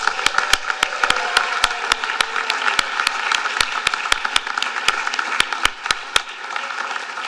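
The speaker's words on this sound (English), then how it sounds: "Let's give them one more round of applause." Graduates and guests at a university pharmacy white coat ceremony applaud in a large hall, a broad wash of clapping punctuated by sharp, loud claps close by.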